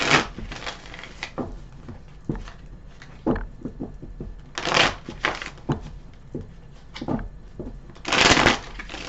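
Tarot cards are shuffled close up, giving bursts of riffling and papery slaps with softer rustles between them.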